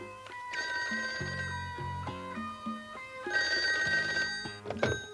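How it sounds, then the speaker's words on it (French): A telephone bell rings late at night in two ringing bursts separated by a pause, moderately close and without talk, a short musical sting following the second ring. "monsieur Yamaoka, puis-je savoir ce qui me vaut un appel si tardif"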